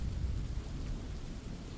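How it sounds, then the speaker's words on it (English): Steady rain falls through the evening with a deep, continuous rumble of thunder beneath it, loud and close with no pauses. "I heard the rain this evening."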